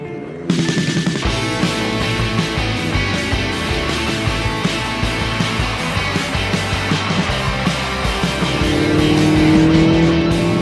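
A 2015 Seat Leon Cupra 280 drives a lap of the Nürburgring Grand Prix circuit. Its engine drones steadily and close, with shifting revs and a tone that climbs near the end. Nobody speaks.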